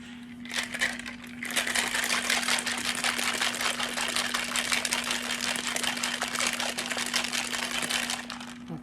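A Bloody Mary made with low sodium V8 is shaken in a cocktail shaker, giving a continuous rapid rattling of ice close up for several seconds over a steady electrical hum.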